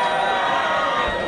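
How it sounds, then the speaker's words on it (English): At an Ultra MMA fight night in Glasgow, a crowd cheers for the red corner, a loud sustained roar of shouts and whoops that stays at full volume throughout. "So a cheer for the red corner."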